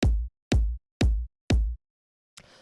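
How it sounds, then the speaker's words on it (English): A simple two-layer house music kick drum, a low kick stacked with a high kick layer, hits four times at an even steady pace, each hit loud and punchy with a deep boom. A faint noisy tail follows at the end. "So this is just a simple kick."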